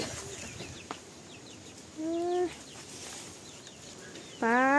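A chicken clucks nearby in a short, quiet burst partway through, followed by a louder cluck at the end, over faint ambient background noise.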